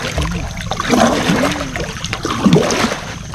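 Strong river current flowing past a small boat, a steady wash of splashing and gurgling water close by, with no talk over it.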